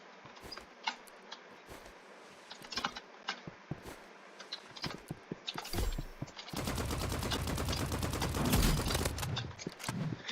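Assault rifle fire in the video game Rivals: scattered single shots and short bursts at first, then a long, loud, sustained stream of rapid automatic gunfire, with faint mouse clicks between shots.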